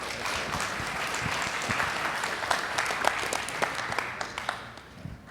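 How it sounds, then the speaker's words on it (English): Audience applause in a meeting room after a talk on cooling towers, a steady wash of clapping that carries on for several seconds and thins out toward the end, with a few individual claps standing out. "Round of applause for..."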